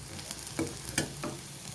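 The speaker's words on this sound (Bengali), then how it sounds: "রসুনটাকেও পেঁয়াজের সাথে আমি লাল করে ভেজে নেব।" Garlic and onion fry in a pan with a steady sizzle, broken by several sharp scraping strokes of a stirring utensil, close and moderately loud.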